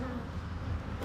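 Honeybees hum steadily from an open hive being worked during a hive inspection, a dense continuous drone that stays even and close for the whole moment.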